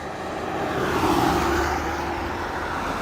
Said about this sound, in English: You can just hear the cars just whizzing by me.